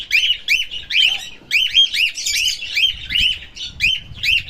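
Loud, shrill screeching of a male cockatiel or budgie in rapid repeated calls, close by and continuous, with faint low rumbling in the background.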